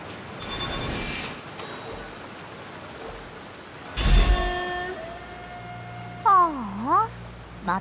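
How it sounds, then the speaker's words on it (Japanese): Steady rain patters throughout a Genshin Impact game scene, a continuous soft hiss with a brief louder burst midway and chiming game effects near the end. "また雨か。"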